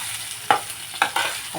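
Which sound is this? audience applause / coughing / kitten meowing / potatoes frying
potatoes frying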